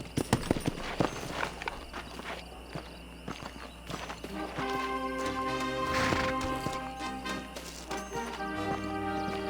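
Horse hooves clip-clop at a walk in the video game Red Dead Redemption, a series of soft, fairly quiet footfalls alongside other game sounds and a faint musical tone.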